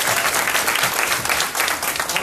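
A crowd at a Partners in Torah inaugural event claps loudly and steadily, dense applause from many hands filling the room throughout the short stretch.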